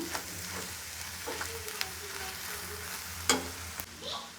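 Egg with drumstick leaves fries on high flame in a pan, giving a quiet, steady sizzle with a few soft spatula scrapes and one sharper clack, close but low in level.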